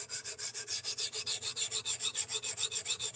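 A sharpener rasps along a knife blade's bevel in steady back-and-forth strokes, roughly seven per second, close and continuous with an even scraping rhythm and no talking.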